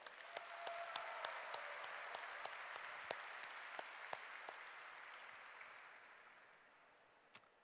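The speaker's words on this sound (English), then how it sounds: "So let's give a warm applause." Audience applause at a developer conference in India, a fairly distant crowd clapping steadily, swelling early and slowly fading, with a few sharper claps standing out near the end.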